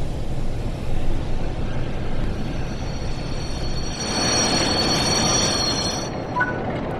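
Train in the Blackpool Branches simulator game braking on the approach to a platform, with steady rumbling wheels and squealing brakes that rise around the middle and ease off near the end.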